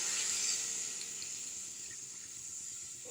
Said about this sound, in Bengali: হয়ে গিয়েছে কষা, এবার আমি জল ঢেলে দেবো।